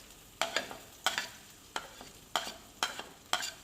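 Diced potatoes and peas being stirred in a pan, with six sharp scraping, sizzling strokes of the spoon coming at a steady rhythm over a quiet background.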